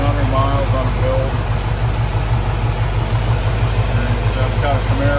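A 1953 Chevrolet 3100 pickup with a freshly rebuilt engine idles steadily, a loud low rumble with an even pulse running throughout while someone talks over it.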